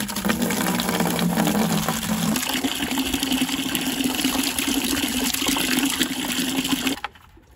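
Water gushes steadily into a bucket for rehydrating roses, a loud continuous pouring that shifts in tone partway through and then cuts off abruptly near the end.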